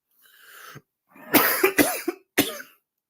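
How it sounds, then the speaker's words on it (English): A person coughs in a TV soap opera scene from General Hospital: one soft cough, then a close cluster of harsh, throaty coughs and a final sharp cough, with no talking. "since you're still coughing a lot"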